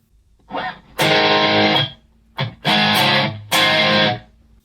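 Three bursts of heavily distorted electric guitar from the distortion preset of an Enya Nova Go Sonic, each loud and gritty, separated by brief pauses, with a short softer strum between them.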